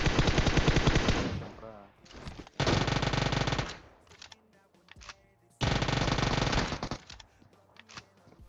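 UZI gunfire in the mobile game PUBG Mobile: loud, rapid full-auto bursts, three long sprays separated by short gaps with smaller shots and impact clatter between them.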